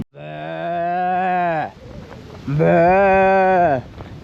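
A water buffalo lets out two long, deep moos with a pause between them. The animal is close and loud, and the sound is heard on a walk near Siyambalanduwa and Pottuvil in Sri Lanka.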